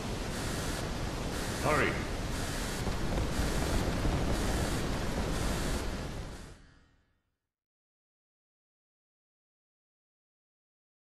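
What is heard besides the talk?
seawater rushing in, from video game The Bouncer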